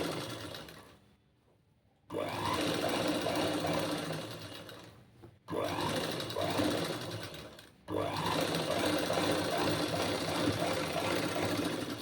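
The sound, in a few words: sewing machine stitching a boat neck blouse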